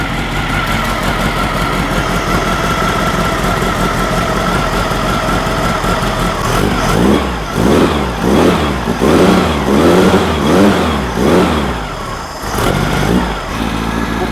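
A custom-built VW engine starts and runs loud and close, settling into a steady idle before a run of repeated revs that rise and fall in rhythmic surges.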